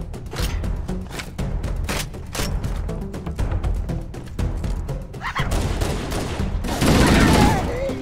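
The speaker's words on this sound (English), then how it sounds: "Oh, this gun sounds way different." Rapid, dense gunfire from a weapon in Halo: Combat Evolved, loud and close in sustained bursts, with booming impacts and a swelling roar of explosions toward the end.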